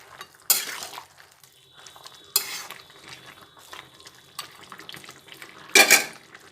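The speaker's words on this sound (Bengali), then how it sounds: "বড়িগুলো দিয়ে একটু নাড়িয়ে নিচ্ছি" A spoon stirs sun-dried lentil dumplings into half-cooked vegetables in a pot of niramish shukto, giving four distinct scraping clanks spaced a second or two apart, with quiet simmering between them.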